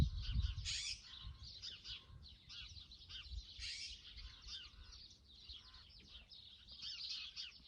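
Several birds chirping and twittering outdoors in quick repeated bursts, fairly faint, over low wind rumble.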